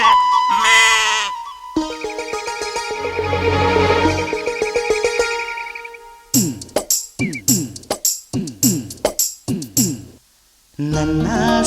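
Lambs bleat in a rapid run of short, wavering calls after a stretch of melodic music, loud and close, with a brief gap before the music resumes.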